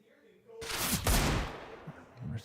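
Desert Eagle pistol gunfire in a Counter-Strike match at a major esports tournament, a loud burst of close shots followed by fading echoes and a couple of softer thumps near the end.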